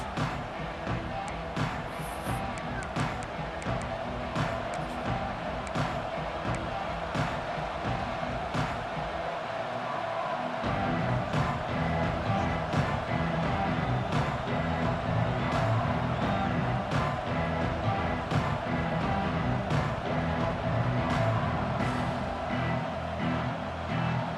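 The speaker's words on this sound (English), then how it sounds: "this crowd is fired up. Listen to this noise here." A dense, steady roar of a large video game stadium crowd at a Florida State vs LSU football game fills the space, constant and loud, with no clear individual voices standing out.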